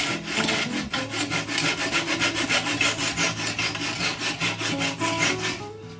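Hand saw cutting wooden stick chair parts to trim them down, a steady rhythmic back-and-forth rasp of teeth through wood, close and loud with no talking.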